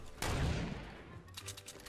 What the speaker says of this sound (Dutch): Yo, hij heeft geschoten